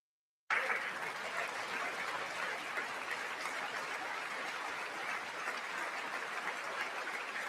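After a brief silence, dense audience clapping starts abruptly at the State of the Union address and holds at an even, continuous level to the end.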